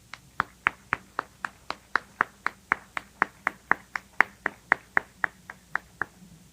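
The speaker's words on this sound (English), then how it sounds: "please accept this round of applause" A single person claps in a slow, even rhythm, about twenty crisp, close claps in a row as applause for volunteer leaders at an annual meeting.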